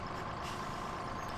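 Tiller fire truck in Farming Simulator 17 backing up, its engine a steady rumble under a high reversing beep that carries loud and constant through the short stretch, with no talk.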